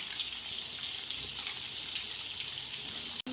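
Cauliflower pakoras half frying in hot oil, giving a steady close crackling sizzle throughout with fine popping bubbles, broken only by a brief dropout near the end.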